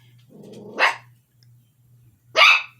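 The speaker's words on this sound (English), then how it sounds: "I would never start barking when somebody's reporting" A dog gives two sharp barks about a second and a half apart, close by, over a low steady hum.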